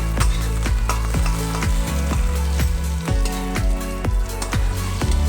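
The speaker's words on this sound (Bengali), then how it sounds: "টমেটো দিয়ে আবার কিছুক্ষণ আমি একটু ভালো করে ভাজা ভাজা করে নেবো" Onion, garlic and tomato fry in a pan with a continuous sizzle, punctuated by regular sharp scrapes and knocks of a spatula stirring, close and fairly loud, with no speech.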